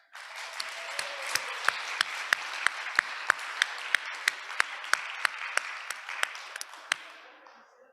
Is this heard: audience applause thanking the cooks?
yes